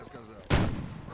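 A single loud gunshot bursts out in the S.T.A.L.K.E.R. GAMMA video game as a bloodsucker is shot, a sharp crack that trails off quickly in a short echo.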